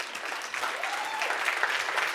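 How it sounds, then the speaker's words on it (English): Audience at a millionaires summit applauding, a steady wash of many hands clapping at even loudness from start to finish. "Give them a round of applause."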